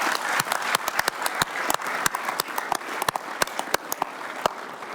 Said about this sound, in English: Give Matt a round of applause